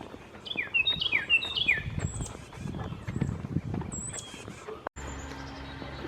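Birds chirp and trill in a green springtime setting, with repeated sharp descending whistled calls standing out early among busier background chirping and a soft low rumble from movement nearby.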